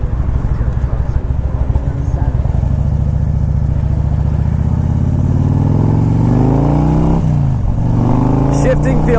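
A 2001 Harley-Davidson Ultra Classic V-twin rumbles loudly while riding, its low engine note climbing as it revs up and accelerating steadily, with a brief dip in revs before climbing again; wind noise and a voice sit beneath the engine.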